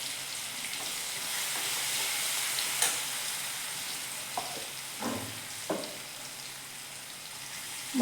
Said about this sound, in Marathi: बघा लसूण आपला व्यवस्थित परततो।